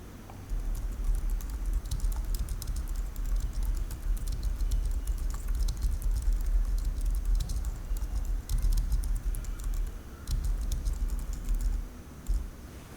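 A computer keyboard clatters under fast, steady typing as an ad description is written. The rapid clicks run nearly without pause over a soft room hum, with no talk.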